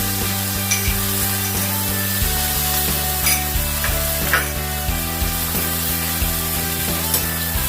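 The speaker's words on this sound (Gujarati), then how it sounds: "ત્યારબાદ ચોપ કરેલા લીલા મરચાં એડ કરી દઈશું. ત્યારબાદ આદુ એડ કરી દઈશું." Chopped green chillies and ginger sizzle in a pan with a steady hiss and occasional stirring scrapes, while a low, tonal hum drones underneath throughout.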